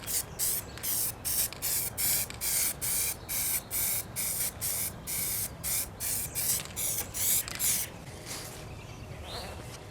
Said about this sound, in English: I've got all of my little sloths ready to spray paint, so I'm going to go outside and spray paint these up